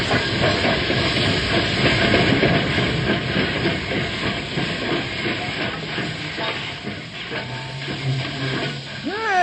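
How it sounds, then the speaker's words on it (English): A steam train pulls into a station, hissing loudly and continuously with a rumbling, clattering undertone of rolling cars, the noise easing slightly near the end as a brief whistle-like tone rises. "The train just pulled in."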